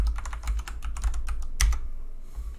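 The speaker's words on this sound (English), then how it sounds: "Now we write our password." A rapid run of close, crisp key clicks as a password is typed on a computer keyboard, ending in one firmer keystroke before the tapping stops.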